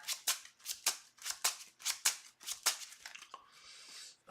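A deck of cards is riffled repeatedly during a tabletop card game, about nine crisp, fluttering shuffles in a steady rhythm, close and fairly quiet, ending in a softer, smoother riffle.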